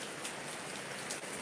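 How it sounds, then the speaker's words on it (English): Steady rain falls in a dense, even hiss, with soft drops tapping on a surface throughout and no voices present. "I love the sound of the rain. Listen to that."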